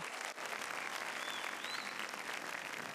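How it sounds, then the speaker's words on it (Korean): An audience at an Israeli Independence Day ceremony applauds Israel's children with steady, fairly faint clapping that carries on evenly and is heard alone. "이스라엘의 아이들에게 큰 박수를 보내주세요"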